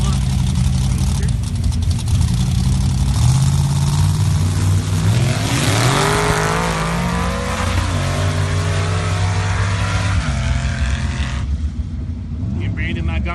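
Drag racing truck and roadster engines idle and rev loudly at the start line of a spring nationals bracket event, a steady dense rumble with rising revs midway, while an announcer's voice talks over it.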